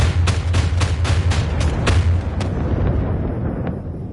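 Fireworks bursting in the video game Dreams, a rapid string of loud booming explosions in the first two seconds, then a few scattered bangs fading out over a low rumble.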